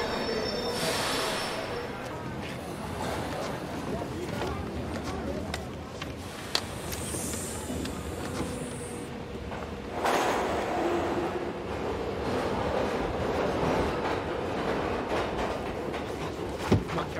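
A passenger train carriage rumbles along the rails in a city, with steady clatter and loud metallic wheel squeals rising over it, while voices talk faintly inside the car.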